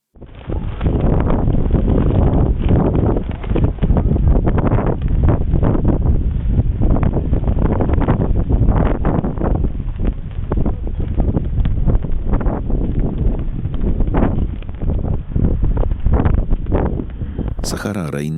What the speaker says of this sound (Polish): Ale to nie deszcz, to piaskowa burza.